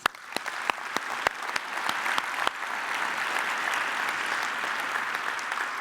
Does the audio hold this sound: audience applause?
yes